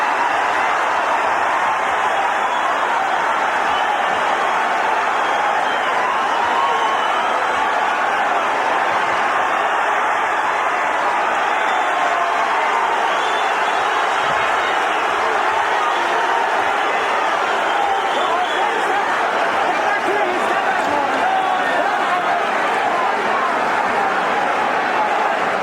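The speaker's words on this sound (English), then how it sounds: "The crowd chanting Sugar Ray." A dense arena crowd at a boxing match roars steadily throughout, a loud sustained wash of many voices with chanting blended in, without distinct breaks.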